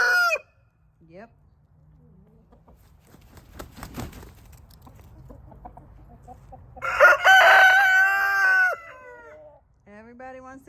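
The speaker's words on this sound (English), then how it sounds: "Everybody wants to crow now." Several free-range roosters crow in the rain, one long loud crow near the middle and a shorter one at the end, with faint clucking and people talking softly between calls.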